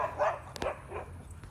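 Akita dogs holding a stay give soft whimpers and yips amid light panting, faint and close, with a couple of sharp clicks.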